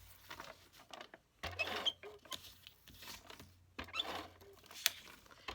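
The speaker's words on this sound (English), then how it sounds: "Usually when it gets low on tape, it starts to squeak, so that's its sign." Tape runner squeaking as it runs low on tape during card-making, short faint creaking squeaks repeating in bursts, quiet and close with no talking.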